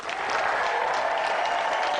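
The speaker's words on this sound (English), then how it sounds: "Round of applause for Angela." Steady, dense applause from a television game-show studio audience, loud and continuous from start to finish with no talk over it.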